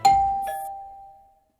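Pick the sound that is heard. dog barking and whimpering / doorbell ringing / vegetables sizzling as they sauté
doorbell ringing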